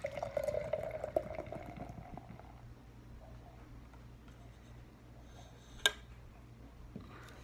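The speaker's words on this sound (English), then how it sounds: "You had a super aggressive pour there." Karbach Rodeo Clown Double IPA is poured hard into a glass, giving a liquid gurgle that fades into a quiet fizzing hiss, with a faint clink partway through.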